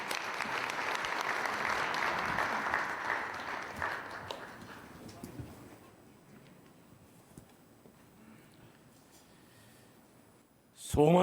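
A congregation claps in steady applause at a prison thanksgiving worship service, gradually fading away into a quiet room, followed by a sudden loud burst at the very end.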